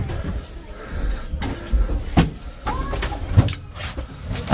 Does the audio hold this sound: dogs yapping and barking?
no